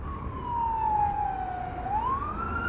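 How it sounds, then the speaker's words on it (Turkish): An ambulance siren wails in a long, smooth falling-then-rising sweep, heard from a motorbike over steady road and traffic rumble. "bir yerlerden ambulans geliyor da."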